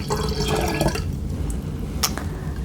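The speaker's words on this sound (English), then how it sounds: "we're going to go ahead and put in our 1 cup of orange juice." Juice made from orange concentrate is poured into a mixture for a nonalcoholic Easter drink, giving a short splashing fill with drips that fades into a few scattered drops.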